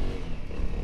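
A motorcycle riding on the road in third gear, fitted with a new 13-tooth front sprocket, gives a steady low engine drone with slight rumbling fluctuation, close and continuous through the short moment.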